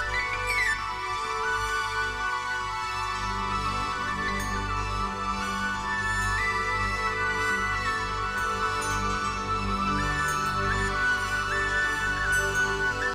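Sonified data from the Cassiopeia A supernova remnant: a dense, continuous drone with layered sustained tones and shifting high whistling pitches, steady and unbroken throughout.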